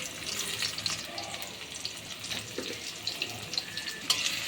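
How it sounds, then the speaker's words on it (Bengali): Shrimp with chopped onion and garlic sizzles in oil in a pan, a soft continuous crackle and hiss with scattered small pops, close and fairly quiet. "আর পেঁয়াজ রসুনের সাথে চিংড়ি মাছটাকে ভেজে নিচ্ছি"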